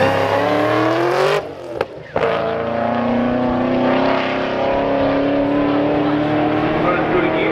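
A fast car accelerating hard through the gears during a race, a loud engine roar that climbs in pitch, drops briefly at a shift, then pulls steadily upward again, close and sustained.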